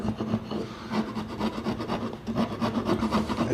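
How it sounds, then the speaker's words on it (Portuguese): Steel wood chisel paring a glue burr off a handmade wooden carpenter's square, a continuous close scraping and rubbing that rises and falls in short strokes throughout. "Então eu vou remover isso com o formão."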